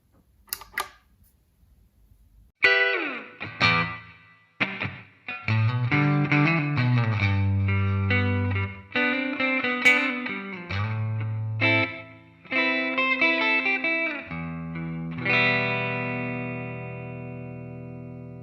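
A Les Paul electric guitar through an FX100 multi-effects unit plays a bright clean tone, with sustained chords and single notes, pauses between phrases, and ringing decays, loud and alone.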